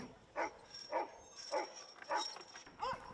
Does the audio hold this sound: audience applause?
no